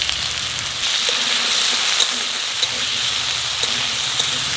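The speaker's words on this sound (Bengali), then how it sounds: "আলু ভাজা হয়ে গেছে" Potatoes sprinkled with a little salt fry in a pan, making a continuous sizzle with occasional faint clicks of the pan, without voices.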